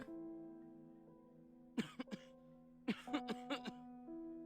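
A video game character coughs in two short bursts, a couple of dry hacks followed by a longer fit of several coughs, close and clear over a soft sustained musical drone.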